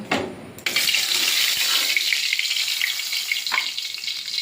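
Hilsa fish pieces frying in hot oil in a wok, a dense, steady sizzle that starts after a brief quiet and stays loud and close throughout.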